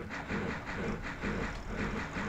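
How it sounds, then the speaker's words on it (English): A freight goods train runs in the OpenTTD railway simulation game, giving a continuous rolling rumble with a faint rhythmic pulse throughout and no voices. "So that's our first goods train."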